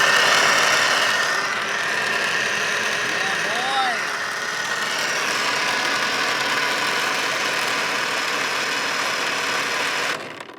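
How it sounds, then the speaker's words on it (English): An electric motor runs steadily on equipment for preparing koi food, giving a continuous rattly hum with vibration, loud and close. It stays constant throughout and cuts off near the end. "This motor is working."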